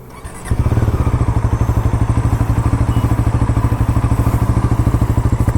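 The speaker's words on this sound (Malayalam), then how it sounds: "എക്സോസ്റ്റ് നോട്ട് കേൾക്കാം." Bajaj NS 400 Z, a 350cc motorcycle, idling in neutral with a steady, loud, rapid thumping exhaust pulse that starts abruptly and holds an even rhythm close by, with a faint whistling undertone.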